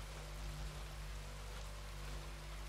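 Steady rain falls in the video game Weird West, a constant even hiss that continues without pause and without talk.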